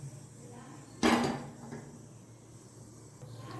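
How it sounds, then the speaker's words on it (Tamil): A cooking pan set down on a kitchen stove while making potato fry, a single close metallic clunk with a short ringing tail, followed by faint softer clatter over quiet room hum. "பாத்திரம் வச்சுக்கலாம்."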